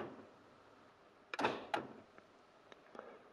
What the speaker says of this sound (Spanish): vamos a comprobar si puenteando el cable rosa verde a masa abrimos